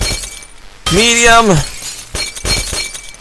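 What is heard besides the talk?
glass breaking in video game Happy Wheels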